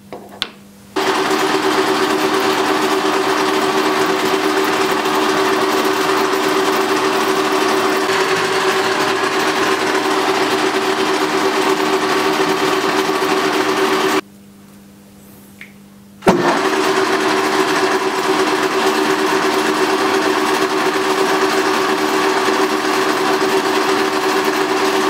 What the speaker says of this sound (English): Now I'm going to turn this into the part that goes into the hydraulic cylinder.